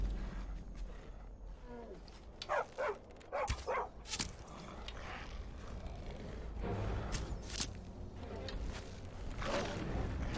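A dog in the video game Skyrim barks and yips in short bursts amid game combat noise, with some speech faintly underneath.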